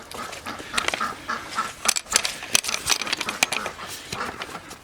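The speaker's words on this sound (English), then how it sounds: "by now you hear the ducks, because the ducks are carrying on like crazy" Ducks quack and honk excitedly in a noisy, overlapping chorus nearby on a farm, calls coming in rapid irregular bursts.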